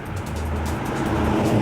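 A 1970 Ford Torino muscle car drives along the road with a steady, close engine rumble and tyre roar, and no voices.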